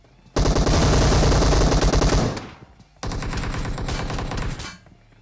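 Automatic weapon fire in the PUBG Mobile shooter game: two loud, rapid sustained bursts, the first about two seconds long and the second following after a brief gap, close and dense with no talking.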